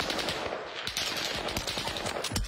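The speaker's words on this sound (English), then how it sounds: "Yo, I'm literally shooting through his fucking face, Doc." Rapid automatic gunfire in a shooting video game, a dense continuous burst of close, loud shots filling the whole moment without talking.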